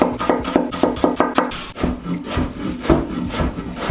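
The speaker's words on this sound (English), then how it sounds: "Using some of the brown onion, you want to finely chop it." A knife finely chops brown onion on a cutting board: quick, close, evenly spaced taps at first, then slower and more irregular chops, with no talking.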